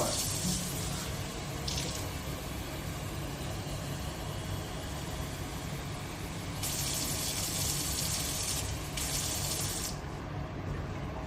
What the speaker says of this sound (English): Now we just have to fill up our mason jar with some room temperature water.